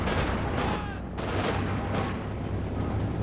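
In the video game Company of Heroes 2, a half-track machine gun keeps up continuous loud fire within a dense battle din, with heavy rattling bursts and booms throughout.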